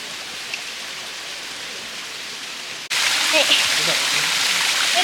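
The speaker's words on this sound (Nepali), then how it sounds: "यो चाहिँ सानो झरना हो यहाँ चाहिँ" A small waterfall in Australia rushes with a steady hiss of falling water. The sound is noticeably louder and closer after about three seconds.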